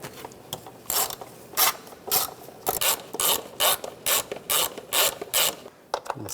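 A hand ratchet snugs down valve cover bolts on a 2007-2013 Mini Cooper, its sharp clicking strokes coming in a steady, close, even rhythm with short pauses.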